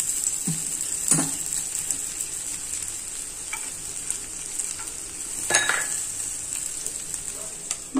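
A hot lump of charcoal dropped into a small bowl of ghee sizzles with a steady, close hiss, while a few sharp metallic clinks of the bowl ring out now and then.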